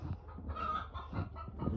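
Brief burst of hens clucking around a coop, low throaty repeated clucks in quick succession, quiet and close with a faint hum underneath.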